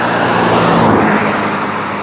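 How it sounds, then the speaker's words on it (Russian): A car passes close by on a road in the Murmansk region, a loud, steady rush of tyre and engine noise that fills the whole moment, with no voices. "Машина."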